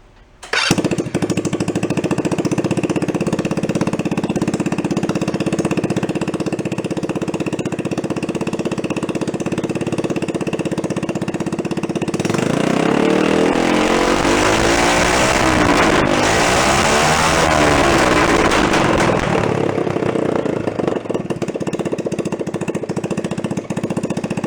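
A modified ATV engine starts and runs with a loud, steady buzzing drone, then revs harder midway for several seconds before settling back to a rough idle, close by with no talking.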